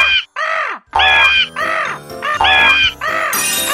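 Several loud, harsh crow caws in a children's cartoon farm scene, coming in quick repeated bursts close up, with a faint tinkling jingle near the end.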